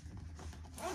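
A short zipper being pulled open, a quick rasping slide close by, rising slightly at the end.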